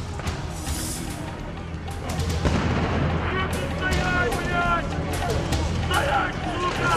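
Crowd protest scene where police fire flash grenades and use water cannon to push protesters back, with dense crowd babble throughout and sharp bangs and bursts rising from the noise, especially in the second half.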